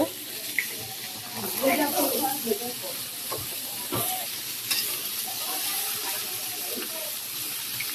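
Sweet pumpkin is added to onions frying with kalonji in a pan, giving a steady soft sizzle with stirring scrapes and clatter under a faint background voice.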